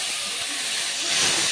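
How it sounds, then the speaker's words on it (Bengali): Slit green chillies and chopped tomatoes hitting hot tempering in a pan, a loud broad hissing sizzle that swells slightly toward the end, close and without talk. "এবার এর মধ্যে দিয়ে দেবো চেরা কাঁচা লঙ্কা আর কেটে নেওয়া টমেটো"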